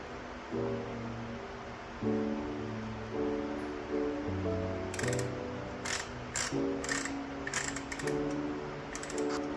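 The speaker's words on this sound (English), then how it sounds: "So here I torque this in increments of 20 to 40 to 80." A torque wrench ratchets steadily while tightening the main bearing bolts on a Honda B20 VTEC engine bottom end in a Civic Si build, giving repeated mechanical clicks in bursts, close and fairly loud, with no talking.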